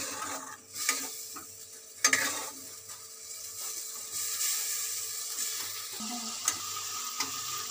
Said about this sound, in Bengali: আমার রান্নার এখানে মশলাটা কষা হচ্ছে